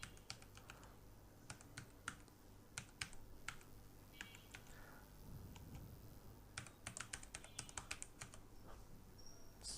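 Fingers type on a computer keyboard in quick irregular clusters of close, crisp key clicks, with short pauses between bursts and no voices.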